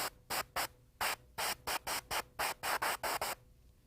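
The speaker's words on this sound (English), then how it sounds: "just work your way across the fingers, spraying those white tips in" Airbrush spraying white French manicure tips onto fingernails, a series of about a dozen short hissing bursts in a steady stop-start rhythm, close and clear with no talking.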